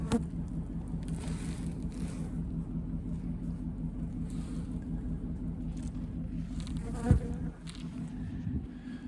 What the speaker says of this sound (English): bringing in boxes of bees.